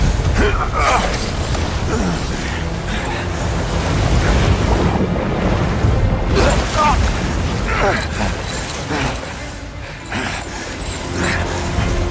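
Rushing water and surf roar steadily after a fall into water in God of War Ragnarök, a loud continuous wash with buffeting wind-like noise, fading briefly before surging again.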